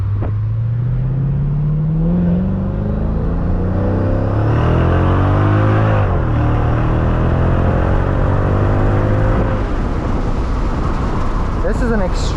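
2005 Mercedes CL55 AMG on a test drive, its engine note climbing through gears in rising sweeps, deep and loud inside the cabin, with someone talking over the drone.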